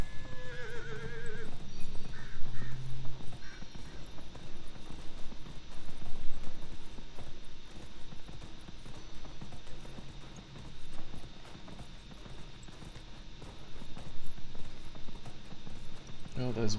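A horse whinnies and hooves clip-clop steadily in Dragon Age: Inquisition, with game ambient music and effects humming throughout.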